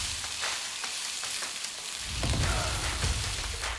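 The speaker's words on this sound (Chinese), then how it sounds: "加入姜蒜片炒香，加入莴笋片" Garlic and ginger slices with sliced lettuce stem hiss and crackle in hot oil in a wok, a steady close sizzle that swells louder partway through as the vegetables go in and get tossed.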